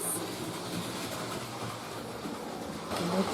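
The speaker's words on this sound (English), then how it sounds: "You like the train?" A toy train runs around a Christmas display indoors, giving a steady low rumble and faint rhythmic rattling for the whole stretch, growing slightly louder near the end.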